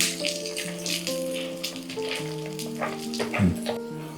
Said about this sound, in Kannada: ಲವಂಗ, ಮೆಣಸು ಮತ್ತು ದಾಲ್ಚಿನ್ನಿ ಅದನ್ನು ಹಾಕ್ಕೊಂಡು ನಾವು ಹುರ್ಕೊಳ್ಳೋಣ